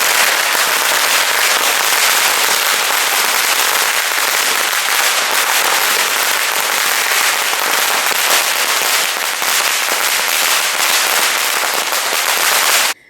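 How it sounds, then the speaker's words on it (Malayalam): Firecrackers set off at a political celebration on a ground in Kanhangad, a loud, dense rapid crackle of bursts running continuously before stopping abruptly at the end. "വി.ഡി. സതീശൻ സത്യപ്രതിജ്ഞ ചെയ്തതോടെ പടക്കം പൊട്ടിച്ചും പായസ വിതരണവുമായി പ്രവർത്തകർ സജീവമായി."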